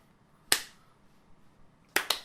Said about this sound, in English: Anticipating clap.